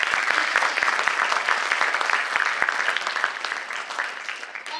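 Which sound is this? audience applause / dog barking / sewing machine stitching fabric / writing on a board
audience applause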